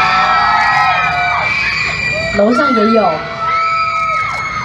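Fans at a rainy outdoor autograph-signing and singing event scream and cheer in a loud, sustained crowd roar with high shrieks, dipping briefly midway before swelling again, while an announcer speaks over it.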